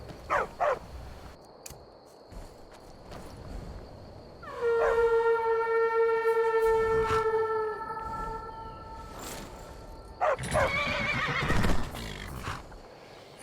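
A horse whinnies loudly in the video game Skyrim with a long, harmonic neigh that holds and slowly fades, then a shorter snorting whinny follows, set against a game ambience with scattered faint clicks and thuds.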